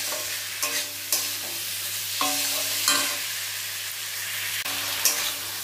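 Fish curry is stirred and fried in a pan with vegetables, a continuous sizzle broken by several distinct scraping stir strokes at irregular intervals, close and clear with no talking.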